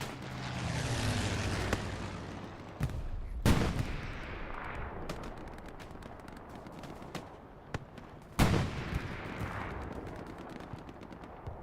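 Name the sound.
aircraft strafing run gunfire in video game Hell Let Loose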